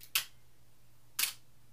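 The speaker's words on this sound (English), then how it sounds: "So now, when I press the shutter, listen to this." A camera in exposure delay mode gives two crisp, close mechanical clicks about a second apart: first the mirror flipping up, then the shutter firing. Both stand out sharply against near silence.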